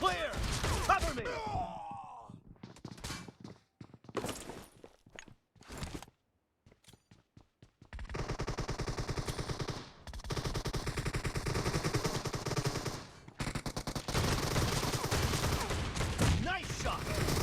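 Gunfire in a PUBG Mobile team deathmatch with shotguns: repeated bursts of loud shots and automatic fire, broken by short pauses and a near-silent gap, with game voice callouts mixed in.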